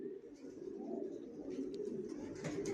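Racing pigeon chicks of the Johnson long line coo steadily in a loft, a low continuous warble with a few brief higher chirps, moderately close and without talk.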